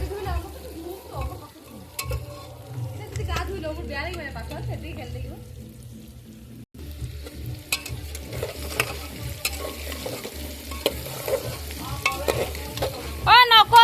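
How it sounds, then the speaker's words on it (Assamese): Potatoes frying in a pan while cooking a simple Holi mutton recipe: continuous sizzling with stirring scrapes and clinks, voices talking intermittently over it. "আলু ফ্ৰাই হৈ গ'ল"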